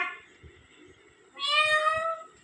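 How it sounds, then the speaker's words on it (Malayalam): A cat meows clearly and fairly loudly in one drawn-out call, with low scuffling or soft background noise before it. "പൂച്ച വരും"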